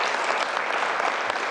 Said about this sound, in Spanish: Cuando le damos un aplauso al Eterno.